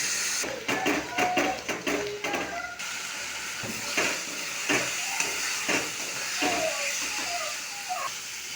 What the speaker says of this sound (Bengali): আদা রসুন ও মশলা খুব ভালো করে কষিয়ে নিলাম তেল ছেড়ে আসছে